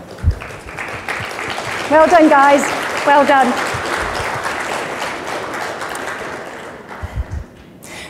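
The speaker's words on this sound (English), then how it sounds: "Let's give a round of applause." An audience applauds steadily for several seconds at a talk on UFO contactees and suppressed technology, the clapping continuing under a voice speaking over it before it tapers off.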